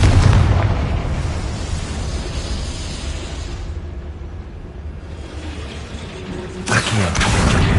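A Confringo fire spell in Hogwarts Legacy bursts into a loud explosive boom, followed by a sustained rumbling roar and a second sharp burst near the end.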